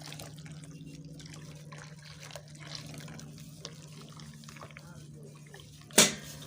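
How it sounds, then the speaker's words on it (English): Water is poured into a homemade liquid soap mixture made from oil and NaOH, giving a faint, steady trickle over a low background hum, with a sudden louder splash near the end. "Adding more water."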